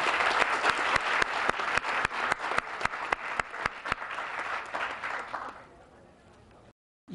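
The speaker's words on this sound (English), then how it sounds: "Let's give them a round of applause for their great..." Applause from an outdoor crowd at a 1999 downtown street opening, a steady loud wash of clapping with a few sharp near claps that fades out toward the end.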